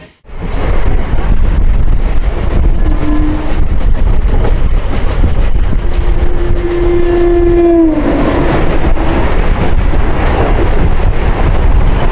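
Simhadri Express 17239 running on rails as it joins the main line on the Bhimavaram–Visakhapatnam route, a loud continuous rumble of wheels with two sustained horn blasts, one short and one longer, close by, with no talking.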